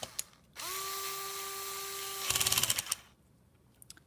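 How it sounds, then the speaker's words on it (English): A torque screwdriver drives screws into the hinges of a Lenovo Yoga 11e Gen 2 laptop: a steady motor whine runs for about two seconds, ends in a quick burst of ratcheting clicks, then a few faint taps follow. "this screwdriver is a torque screwdriver, so when it reaches its torque level, it doesn't turn it anymore and it does not ruin the screw"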